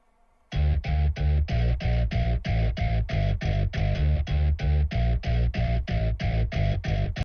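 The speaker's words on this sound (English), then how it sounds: "It's this one, Grove Bass, and it sounds like this." Groove Bass, a Kontakt library bass instrument, plays a steady, evenly pulsed bass line of short repeated notes, loud and dry, starting after a brief silence and running continuously without pause.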